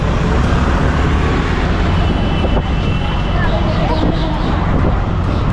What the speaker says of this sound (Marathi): रिक्षाने जात आहे.